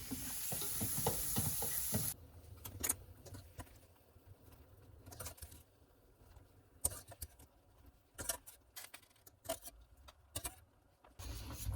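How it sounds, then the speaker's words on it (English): A spoon stirring milk and cornstarch into a sun-dried tomato pesto, heard as a wet, sizzly swirl followed by scattered spoon scrapes and clinks against the bowl, close and moderately quiet with pauses between strokes. "I'm mixing this and adding it to the pesto mixture"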